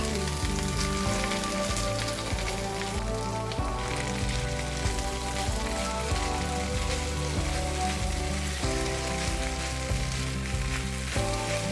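Cooked rice goes into a hot pan to fry and sizzles steadily for the whole stretch, the frying partly masked by a layer of tonal, musical sound.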